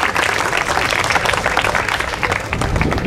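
Audience applause for gavotte dancers at a Bas-Léon gavotte competition in Landerneau, a steady dense wash of clapping that stays fairly loud and even throughout, with a few voices mixed in.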